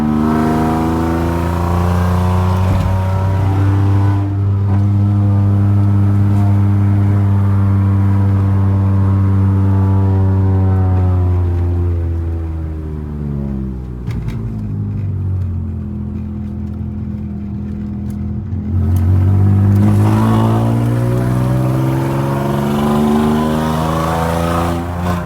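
A VW Polo fitted with a V4 banger exhaust setup revs hard, its loud engine tone climbing and falling in long sweeps, dipping to a lower idle before rising again, close by and steady.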